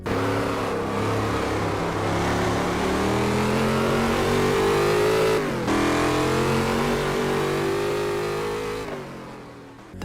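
A 1960s–70s touring car in the racing game GT Legends, its engine revving loud and close in a sustained, climbing roar, with brief gear-shift dips between pulls.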